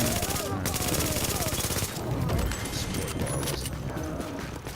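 Rapid automatic fire from an MP7 submachine gun in Tom Clancy's The Division, dense continuous bursts with short gaps, loud and close, with a voice speaking over it.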